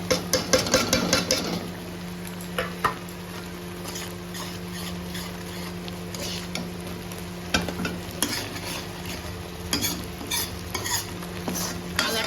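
Tomato and spice masala for bhetki fish sizzles loudly in a pan, stirred with repeated scraping strokes and clinks over a constant frying hiss and a low hum.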